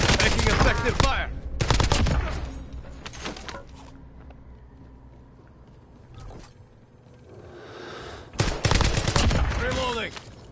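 Bursts of video game gunfire crack out loudly near the start and again at the end, with a quieter stretch of distant shots and game noise in between.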